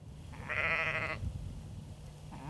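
A sheep bleats once, loud and close, from a flock grazing noxious weeds on hillsides, with a fainter second bleat starting near the end over low outdoor rumble.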